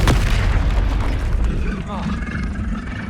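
The Confringo blasting spell in the Hogwarts Legacy video game sets off a sharp, loud explosive boom at the very start, followed by a voice calling out and rumbling game effects.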